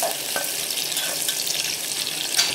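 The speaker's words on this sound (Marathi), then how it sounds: "शिजवून घ्यायचा आहे आपल्याला कांदा" Chopped onion softening in a pan for Khandeshi kadhi, giving a steady, close, moderately loud hiss and sizzle with faint stirring clinks, continuous throughout with no talk.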